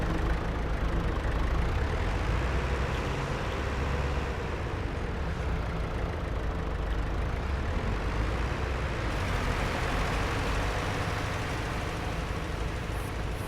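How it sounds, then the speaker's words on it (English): Tractor engine in Farm Sim 25 runs at a steady, loud, continuous drone with a low rumble throughout, alone with no talk. "Let me get the engine started."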